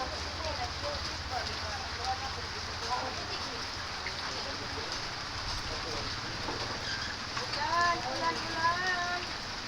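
Steady rain falls outdoors after Typhoon Odette, a constant hiss that goes on throughout, with voices talking faintly underneath it.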